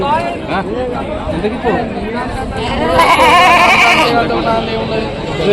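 Several local goats bleat repeatedly at close range at a village market in Rajarampalli, amid people chatting, the bleats growing louder and more crowded midway.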